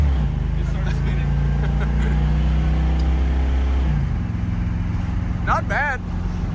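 A small-block 360 V8 car accelerating hard as its wheels spin, a loud, sustained engine roar that shifts pitch partway through, with brief higher squeals near the end.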